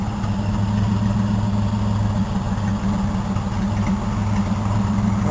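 A truck engine idling low, a steady deep rumble with even vibration that holds unchanged for the full length, close and fairly loud with nothing else over it.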